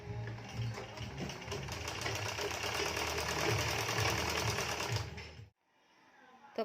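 Electric sewing machine stitching a blouse, a steady close mechanical whir with rapid needle chatter running continuously for about five seconds before stopping abruptly, leaving faint room hiss.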